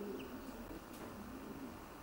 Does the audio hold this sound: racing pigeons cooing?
yes